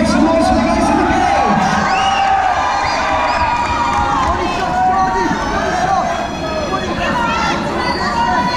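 A loud crowd at an MMA fight in Middlesbrough cheers, whoops and shouts continuously, with individual voices calling out over the steady roar.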